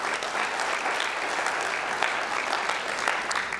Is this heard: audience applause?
yes